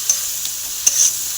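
Spice masala being stir-fried with fried onions in a pan, a short burst of close sizzling with a couple of sharp spoon taps, no voices.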